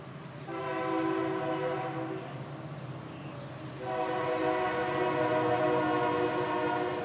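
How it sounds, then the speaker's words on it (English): A train rumbles past nearby while its horn blares in two long, loud blasts separated by a short gap. "There's a train."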